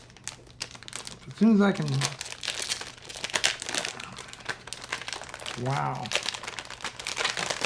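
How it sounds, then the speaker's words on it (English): Plastic wrap being peeled off a new Logitech G413 Carbon mechanical keyboard, with close, loud crinkling and rustling in bursts while someone talks over it. "Let's go ahead and peel open that plastic."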